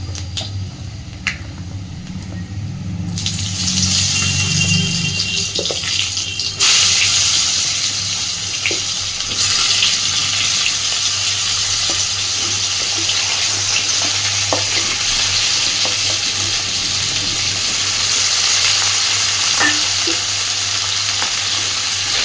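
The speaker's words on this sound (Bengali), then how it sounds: "এইবার কেটে রাখা আলু বেগুন আর কচুটা একসাথে দিয়ে দেবো।" Cut potato, eggplant and taro go into hot oil tempered with panch phoron, bursting into a loud, steady close-up sizzle that holds for the rest of the stretch with occasional stirring clicks, after a quieter start.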